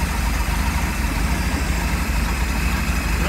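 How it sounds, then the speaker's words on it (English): Mercruiser 4.3 V6 marine engine idling steadily after slowing down during a rebuild, a constant close low rumble with no talk. "So as you saw, the engine slowed down."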